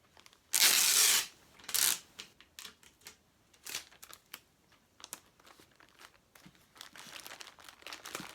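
Packing tape ripped off a roll in two loud, sustained pulls, then smaller crinkles, taps and rubs as it is pressed and wrapped around a plastic gift bag, close up, with no talking.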